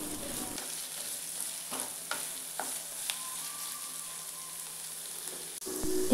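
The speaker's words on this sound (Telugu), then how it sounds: "కొంచెం సాల్ట్ యాడ్ చేస్తే బిన్నే ఫ్రై అవుతుంది." Vegetables frying with salt in a pan for a veg curry, a steady soft sizzle broken by several sharp clinks and scrapes of a stirring spoon, close and with no talk.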